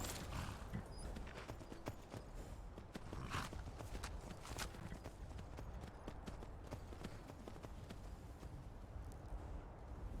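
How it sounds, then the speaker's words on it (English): Faint, steady clip-clopping hooves of a walking horse in the video game Skyrim repeat in an even rhythm, with light ambient rustle behind them. "let's jump on a horse and go into town"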